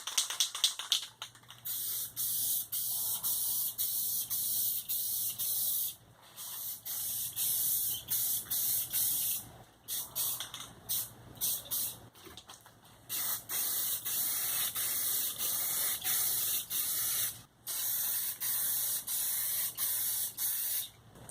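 Paint or coating sprayed from an aerosol can onto S10 Blazer euro taillights, a close, steady hiss in long bursts with brief pauses between passes.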